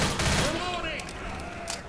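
Gunfire in the video game Left 4 Dead crackles in quick bursts of rapid shots, loud and close at first, then thinner bursts trail off, with game sounds layered over it.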